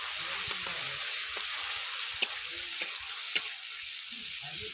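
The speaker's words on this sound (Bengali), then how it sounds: "পেঁয়াজ তেলের উপর দিয়ে দেব আদা বাটা।" Ginger paste frying with onions in hot oil, a continuous hissing sizzle throughout with a few faint clicks of a spoon against the pan.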